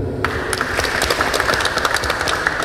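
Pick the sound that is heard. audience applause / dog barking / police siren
audience applause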